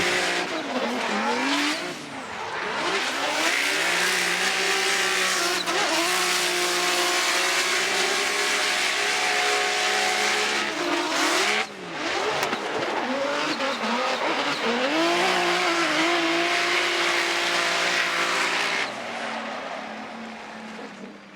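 The ISR Performance Toyota 86 drift car at a Formula Drift St. Louis Top 16 competition screams at high revs with long, wavering engine notes and tire squeal, rising and falling loudly through several passes with brief dips between.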